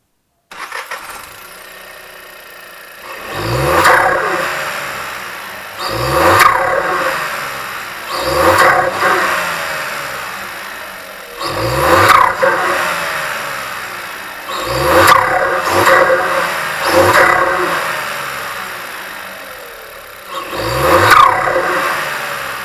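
Volkswagen Cross Up TSI engine, fitted with a new intake and pressurization kit, starts up and then revs in five or six repeated bursts that rise and fall, loud and close with no talking.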